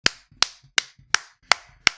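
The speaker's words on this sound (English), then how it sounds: "Let's clap it up." Six sharp, evenly spaced claps ring out close and loud at a slow, steady beat, each one crisp and distinct with no talking.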